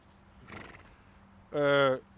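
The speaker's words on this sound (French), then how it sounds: "on voit que ce cheval se relâche simplement" A horse neighs loudly and close by in a single harmonic whinny lasting about half a second, after a fainter earlier vocal sound, with quiet background between.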